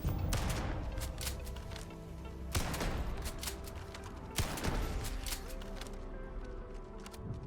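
Old Earth shotgun firing in the sci-fi video game Starfield, a few sharp, heavy blasts spaced out over quiet background game ambience, moderately loud.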